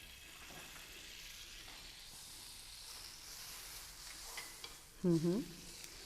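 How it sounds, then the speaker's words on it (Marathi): Garlic butter sizzles on a hot griddle while a chakka sandwich cooks, a soft, steady frying hiss close by, broken near the end by a brief louder clatter. "आता आपण थोडं बटर टाकूया ह्याच्यावर. तव्यावर."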